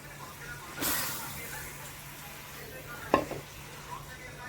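Cempedak fruit pieces are dropped into a wok, giving a brief bright splash and sizzle followed by a fading hiss, then a small clatter and faint stirring noises against a low steady hum.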